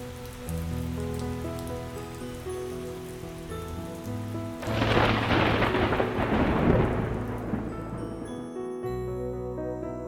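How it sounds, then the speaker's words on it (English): An afternoon desert thunderstorm with a low rolling rumble of thunder, then a burst of big raindrops hitting the dry desert floor that swells and fades. Ambient, with no voices. "an afternoon thunderstorm rolls across the desert. Big drops of rain fall onto the desert floor"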